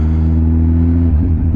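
A 2007 Kawasaki Z1000 (ZR1000B) motorcycle engine runs loud and close, holding a steady note before its pitch shifts upward in a brief rev near the end.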